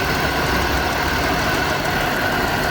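A 2001 Chevrolet Monte Carlo's 3.8L engine runs loud and steady up close, its dense broadband drone holding fairly even throughout the short stretch without any clear spike.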